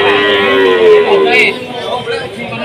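A Limousin bull lets out a loud, close, drawn-out moo at a busy cattle market, with crowd chatter and voices underneath.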